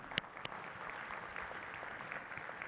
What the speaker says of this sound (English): Should have another round of applause for the two winners there.